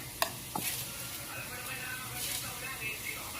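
Adobong sitaw being stirred in a pan, with soft scraping strokes over a steady low sizzle and a couple of small clinks.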